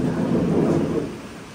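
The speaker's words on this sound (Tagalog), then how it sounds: "Malakas yung ulan eh." Heavy rain pours during a trip in the Philippines while thunder rolls, a loud low rumble over the steady hiss of rainfall that gradually fades.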